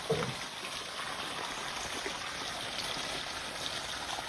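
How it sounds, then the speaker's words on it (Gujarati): Irrigation water runs steadily through a peanut field fed by a pipeline, making an even, unbroken rushing hiss at moderate level with no voices. "અહીંયા પાણી અત્યારે ચાલુ ગયું છે"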